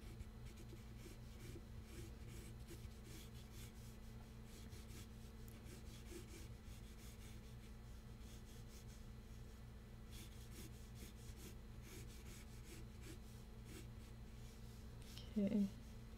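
Pencil strokes scratch across paper during a sketch in quick, repeated bursts, faint and close over a low steady hum, while a voice talks intermittently.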